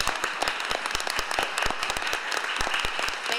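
Audience applause at a housing authority board meeting welcoming a newly named board chair, a dense steady wash of many clapping hands with sharp claps standing out, continuing throughout with no talking.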